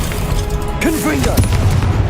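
The Confringo fire spell bursts in Hogwarts Legacy with a heavy, sustained booming rumble, and a brief vocal sound rises over it partway through.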